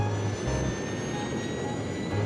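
A jet engine strapped to a Tesla car gives a steady roaring whoosh with a high whine on top, loud and unbroken throughout, with no talk over it.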